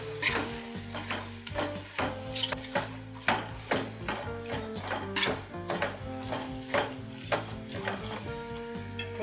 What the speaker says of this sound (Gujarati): હવે આમાંથી તેલ છૂટે ત્યાં સુધી થોડું હલાવવાનું